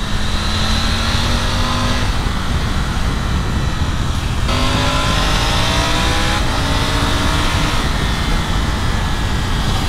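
A 2023 Triumph Tiger 900 Rally Pro engine revs loudly and continuously, and several quick gear shifts use the auto blipper. Each shift briefly breaks the rising engine note before it climbs again. Close and sustained, with no voices.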